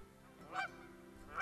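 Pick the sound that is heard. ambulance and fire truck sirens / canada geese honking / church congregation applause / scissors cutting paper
canada geese honking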